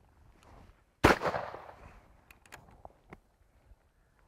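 A single sharp shotgun blast during a quail hunt in open field, loud and close, followed by a fading echo and scattered small knocks.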